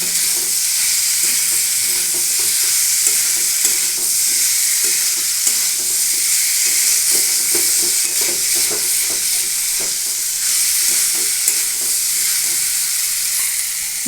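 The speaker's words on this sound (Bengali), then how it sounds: "দেখুন খুব ভালোভাবে নেড়ে চেড়ে একটু সময় ধরে কষিয়ে নিতে হবে" Green jackfruit is stirred and fried in a pan, a continuous hiss of frying with repeated scraping strokes of the spatula, close and fairly loud, with no one talking.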